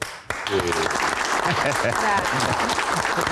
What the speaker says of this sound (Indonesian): Tepuk tangan nggak boleh?